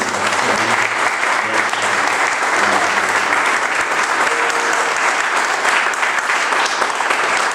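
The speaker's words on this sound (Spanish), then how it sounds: "yo creo que antes de continuar se merece otro aplauso" Sustained audience applause fills a hall after a Paraguayan guarania music performance, a dense, steady wash of clapping at constant loudness with no pause throughout.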